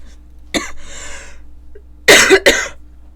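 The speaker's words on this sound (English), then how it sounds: "I'm coughing way too much for a video" A person coughs close to the microphone in a quiet room: one sharp cough, a breathy exhale, then two harsh coughs in quick succession.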